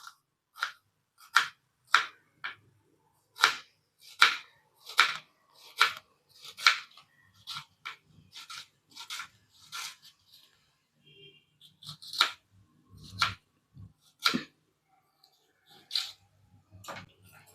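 Thin onion slices being shaved for Diwali vengaya bonda, a run of crisp, quick slicing cuts in a steady rhythm, close and fairly clear, with a few brief pauses and some faint background rustle.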